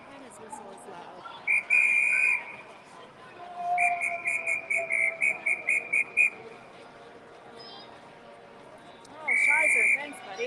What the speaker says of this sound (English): And his whistle is loud.